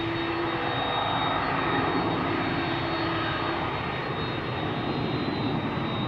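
An EasyJet airliner's jet engines at Amsterdam Schiphol hold a steady, moderate roar with a faint high whine throughout, heard at some distance and with no voices.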